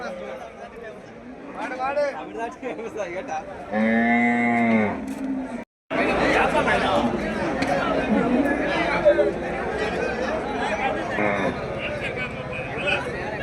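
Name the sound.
cattle mooing at a market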